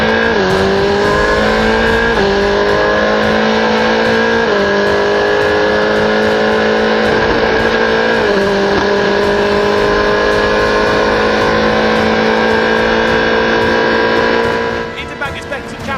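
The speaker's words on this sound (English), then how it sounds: "For the 6th time in the GB4 Championship, partnered by the BRDC, we are racing down to that first corner." A pack of GB4 Championship single-seater race cars charges down to the first corner, engines screaming loud and close, pitch dropping repeatedly through gear changes, with a commentator talking over the noise.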